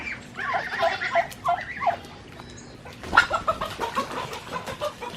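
Close chicken clucks and squawks in short bursts, a brief lull, then more agitated clucking, with faint splashy noise underneath.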